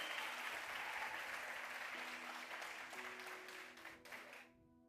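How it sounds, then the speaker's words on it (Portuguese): A church congregation claps in a dense, continuous burst during a Portuguese-language sermon, the applause thinning and fading out in the last second. "Só os que creem aplaudam a presença do Senhor"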